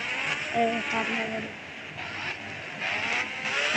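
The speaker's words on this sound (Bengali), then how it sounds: "টান দিচ্ছে গাড়ি" A Suzuki Gixxer motorbike accelerates on the road, its engine note climbing briefly and then settling, with a person talking over the engine throughout.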